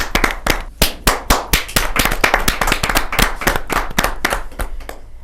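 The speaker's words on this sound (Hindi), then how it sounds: "जोरदार ताली के साथ।" Audience at a Hindi poetry gathering (kavi sammelan) bursts into loud, rhythmic clapping, sharp individual claps close up over a steady wash of many hands, fading slightly toward the end.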